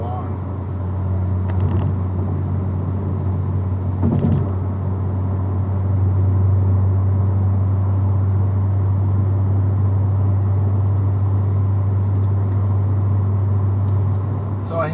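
A car cruising on the freeway at 65 mph in 7th gear, engine lugging at about 1,400 RPM; a steady loud low cabin drone throughout, with people talking over it.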